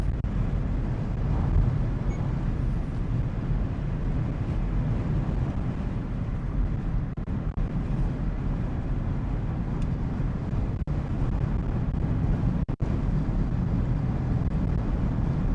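Strong wind buffets hard during a Portland snowstorm, a loud, constant low roar with heavy rumbling gusts that never let up across the whole stretch.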